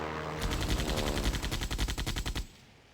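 A biplane's machine gun in Sid Meier's Ace Patrol rattles out a rapid, even burst of about two seconds, loud and close, then cuts off abruptly into quiet.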